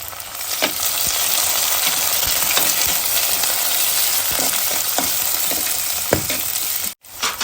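Shallots fry in hot oil with curry leaves and chopped green chillies, a loud continuous sizzle broken by repeated stirring scrapes and ladle knocks, with a brief dropout near the end.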